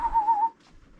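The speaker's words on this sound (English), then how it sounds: "this is a cool little bird whistle" A small metal bird whistle, the kind filled with water, blown once in a steady warbling tone for about half a second, then quiet.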